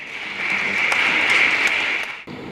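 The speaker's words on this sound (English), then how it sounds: "we use our applause as we greet Most Honorable Sir Howard Cooke to the lectern. Your applause, please." An audience at a biography launch at King's House applauds in greeting Sir Howard Cooke. A steady wash of clapping swells in, holds for about two seconds, then stops abruptly.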